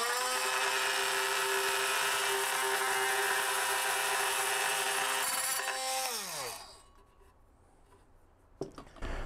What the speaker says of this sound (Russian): Теперь беру мультимастер и аккуратно отрезаю этот шкант.